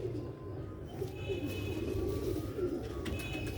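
Soft, rounded pigeon coos, the birds shown as soft and of top quality, repeat steadily close by over a low, continuous background murmur.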